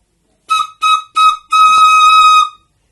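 Three short whistle blasts followed by one longer sustained blast, loud and shrill with clear harmonics, sounding alone with no talk, blown as part of a children's story about a little whistle.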